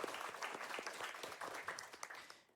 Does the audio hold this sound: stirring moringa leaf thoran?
no